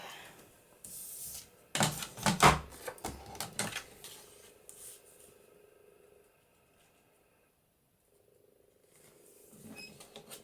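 Paper being trimmed for a journal belly band, heard as a quick burst of close, crisp cutting and rustling strokes that fades into near silence, then faint handling noise.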